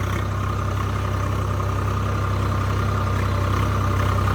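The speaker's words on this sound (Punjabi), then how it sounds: "ਟਰੈਕਟਰ ਬੰਦ ਕਰ ਦੇ ਯਾਰ ਕੁਛ ਨਹੀਂ ਇਹ ਕਿਹੜਾ ਗਰਮ ਹੋ ਰਿਹਾ ਟਰੈਕਟਰ" Tractor engine idling steadily outdoors on a farm, a loud continuous low rumble with an even throb that stays constant throughout, with no voices.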